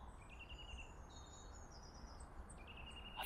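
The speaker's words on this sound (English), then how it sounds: "Have you heard them birds?" Birds chirp and sing in a churchyard at St Mary's Church, Worsborough, in England: faint, scattered high calls over a steady background hiss, with no voices.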